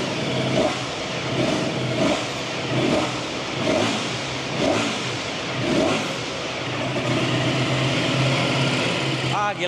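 Short throttle blips from a 2025 Ducati Panigale V4S motorcycle engine, about six rhythmic revs rising and falling over a loud idle, close and bassy, with brief voices heard between the blips.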